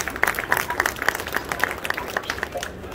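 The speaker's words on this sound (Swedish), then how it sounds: "den största applåden ger vi till alla de som inte är i några dräkter utan som är supporter" Crowd applause at Comic Con Stockholm, a Star Wars charity costume gathering, with steady rapid hand claps from many people filling the space at moderate loudness.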